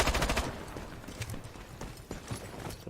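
AK-47 fire in the shooter game IronSight: a quick burst of rapid shots at the start, then scattered fainter reports and clatter, loud and close.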